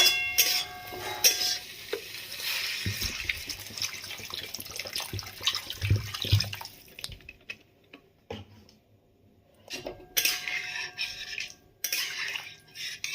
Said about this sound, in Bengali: এই পর্যায়ে আমি এখন এর মধ্যে দিয়ে দেব জল